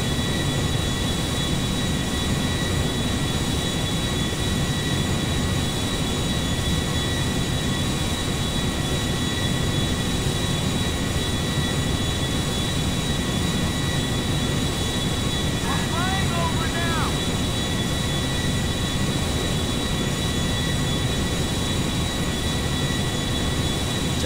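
A steady, loud airplane engine drone runs throughout from the GTA5 video game, with someone talking over it.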